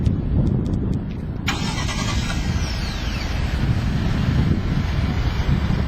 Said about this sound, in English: let's go ahead and start up the engine